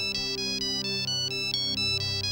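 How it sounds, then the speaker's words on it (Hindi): A phone ringtone plays a repeating electronic melody of short, evenly spaced tones, about six pulses in a steady rhythm, clear and moderately loud over a low background hum. "तुम्हारा फोन है।"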